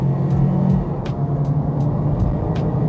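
A Mazda CX-3 compact SUV accelerating hard in a 0-100 run, heard from inside the cabin as a steady, loud engine drone with a low hum and faint periodic clicks.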